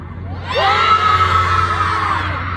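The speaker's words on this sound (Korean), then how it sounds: "그 어느 때보다 더 크게 소리 지르고 같이 오셨으면 좋겠습니다" A large concert crowd at a show in Incheon screams and cheers loudly and continuously, with high-pitched shrieks and whoops rising and swelling together and no talking over them.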